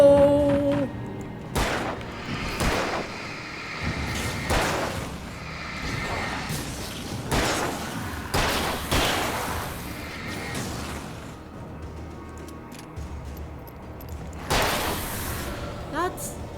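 Gunshots fired in Alan Wake, aimed at fuel tanks: several loud booming shots spaced a few seconds apart over game ambience, with a person talking between them.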